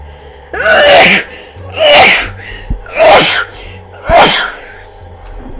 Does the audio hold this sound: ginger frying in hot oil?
no